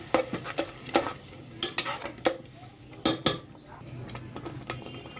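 Utensil scraping and clinking in a pan as ground paste is stirred into a chickpea curry, with close, irregular metallic knocks and scrapes over a soft sizzle.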